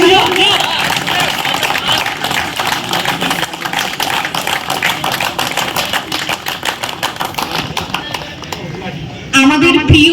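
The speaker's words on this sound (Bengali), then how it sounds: "একটু জোরে হাততালি হোক।" Steady, loud applause fills the room at a Bengali office Bijoya reunion gathering as an audience claps to welcome a new colleague, a dense continuous patter that lasts throughout and swells near the end.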